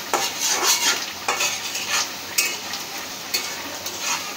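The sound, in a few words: onions frying in a pan until brown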